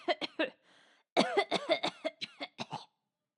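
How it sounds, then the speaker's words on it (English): A narrator performs harsh, repeated coughing in a spoken reading: a short burst of coughs, a brief pause, then a longer fit of hacking coughs close to the microphone. "How long have you had that cough?"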